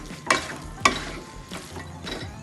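A spoon stirs Kerala-style varutharacha chicken curry with spices in a pan. There are two sharp scraping knocks followed by softer scrapes over a low, steady sizzle, with no talking.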